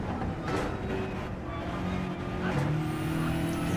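Race cars lapping the Nürburgring Nordschleife in a racing video game at dusk: steady engine drone with shifting revs, a car passing close by, and brief tire squeal, continuous and fairly loud throughout.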